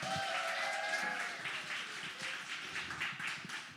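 Applause from a live podcast audience in Houston, a dense wash of clapping that stays steady and fairly loud, with a few brief voices and tonal sounds near the start.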